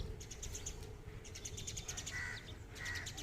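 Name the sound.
flock of sparrows chirping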